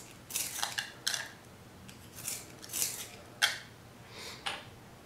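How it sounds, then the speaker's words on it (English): Pencil being sharpened by hand during a charcoal drawing lesson, heard as about six short, dry scraping strokes in an uneven rhythm, moderately close, with no talking. "I'm gonna sharpen my pencil here."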